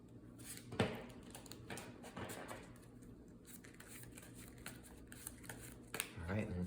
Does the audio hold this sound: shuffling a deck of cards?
yes